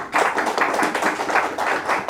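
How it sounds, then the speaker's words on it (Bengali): Steady, rapid hand clapping rings out at a book publishing event at a press club, moderately loud and continuous for a couple of seconds with no talk over it. "আমি এই জন্য একটা হাততালি দিতে চাই"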